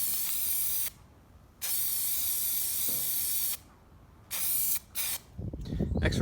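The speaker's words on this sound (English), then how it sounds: "I'm going to hit it with some etch primer." Etch primer sprayed from an aerosol can onto a cleaned Audi TT front brake caliper bracket, in several loud, steady hissing bursts of varying length separated by brief pauses.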